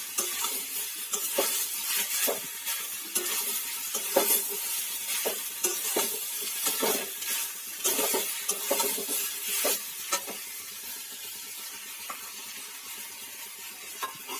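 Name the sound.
stirring poppy seed paste into sizzling dal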